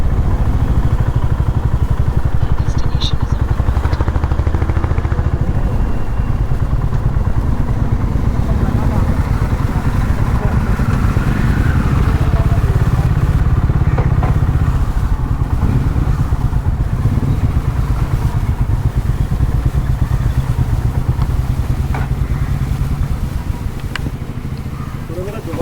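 A Honda H'ness motorcycle on a morning ride, its mid-pitched engine droning steadily with wind rush and road noise throughout, with a rider talking over it.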